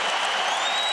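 The crowd at a Syracuse vs. Georgetown college basketball game in 2005 applauds and cheers loudly, a dense, continuous roar of clapping and yelling from a packed arena, with no single voice standing out.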